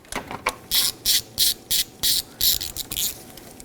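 A ratchet clicks through quick, evenly spaced bursts while threading the three water pump bolts on a 1997–2006 Jeep Wrangler 2.4L, close and crisp, with short pauses between runs.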